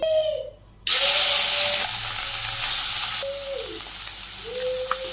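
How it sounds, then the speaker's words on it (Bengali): Fish sizzling in hot oil in a pan during home village cooking, a loud steady crackling fry that starts abruptly after a quiet moment and continues throughout, with slight shifts as pieces settle. "তেল দিয়ে দিলাম আবারও, মাছগুলো দিয়ে দিই।"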